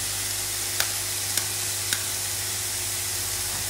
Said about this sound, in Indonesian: Terus masuk telurnya, kita orak-arik di dalam.